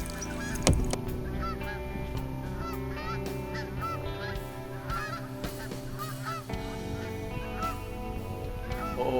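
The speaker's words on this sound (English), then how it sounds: "I've got a bunch of geese coming up here." Many wild geese honk together in a loud, continuous chorus as a flock flies past, calls overlapping and passing close overhead above a beaver pond, with no talking.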